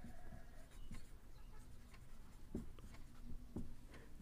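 A pen writes on paper in a quiet room, with faint scratching strokes and a few light taps over a low background hum.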